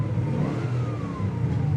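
A 1970 Chevrolet Chevelle SS engine revs up close, a loud, steady mid-pitched roar with a rising whine, heard alone for a couple of seconds.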